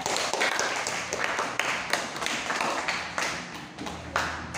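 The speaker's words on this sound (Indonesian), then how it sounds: "Kita beri tepuk tangan dulu untuk kelompok 1, 2, dan 3." A classroom of students applauds the discussion groups, a dense, steady patter of many hands clapping close by for several seconds, with no talk over it.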